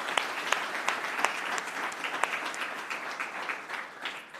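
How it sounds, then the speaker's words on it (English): A seated audience at a chairman's conversation event gives a round of applause, steady dense clapping with a few sharper individual claps standing out, moderately distant and continuous throughout. "Shall we give them a round of applause?"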